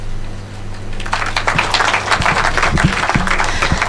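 Audience applause at a formal event as a speaker sits down, starting about a second in and continuing as a dense, fairly close clatter of many hands.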